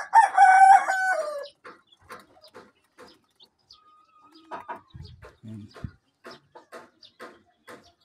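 Talisay gray gamefowl rooster giving one loud, clear crow up close, followed by quieter clucks, scattered bird calls and light farmyard noises.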